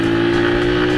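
A Rusi Macho 125 motorcycle accelerates close by with a loud, steady engine drone. A strong tonal hum holds through the full second.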